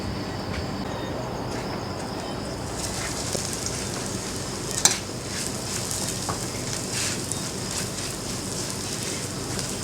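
Frog meat stir-fried in a pan for a spicy Thai curry, a steady sizzling hiss that runs throughout at moderate level, with a brief clack of a utensil near the middle.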